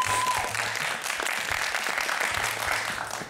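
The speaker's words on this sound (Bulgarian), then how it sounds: "Аплодисменти за Деян!" A television studio audience on a quiz show applauds continuously, a dense, even burst of clapping that tapers slightly toward the end, with a low musical tone underneath.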